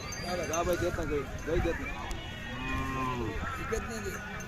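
A Khillar cow moos several times up close at a cattle market, long loud lowing calls repeating one after another, with some farmyard noise underneath.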